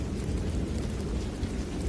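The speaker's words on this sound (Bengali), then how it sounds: "চারিপাশে বিদ্যুৎ চমকাচ্ছে, সঙ্গে ঝোড়ো হাওয়া আর টিপটিপ বৃষ্টি" A thunderstorm with gusting wind and light rain over a village road at night, a continuous low rumbling wash of wind and drizzle at moderate volume, with no talk.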